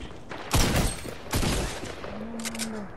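Two bursts of video game gunfire, each a loud rapid volley lasting under half a second, followed by a fainter crackle and a short tonal beep near the end.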